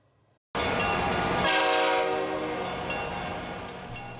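A BC Rail train in the Squamish rail yard sounds a loud, sustained horn that starts abruptly after a quiet moment, with rumbling rolling noise beneath it as the horn slowly fades.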